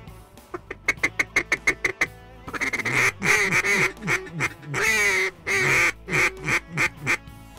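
Ducks quack during a duck hunt: a quick run of sharp, evenly spaced quacks, then a denser, raspy stretch of overlapping calls, fairly close and clear with no talking.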